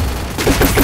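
Rapid gunfire from the Free Fire battle royale game, a dense burst of shots in the second half after a quieter opening, loud and close with no voices.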